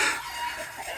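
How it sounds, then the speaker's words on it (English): A hen clucks loudly and close by after laying an egg, giving a brief, insistent cackling burst in a backyard grain bin chicken coop, with no talk over it. "Hen's laying an egg, or just got done laying an egg."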